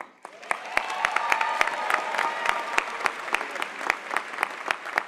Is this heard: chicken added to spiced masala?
no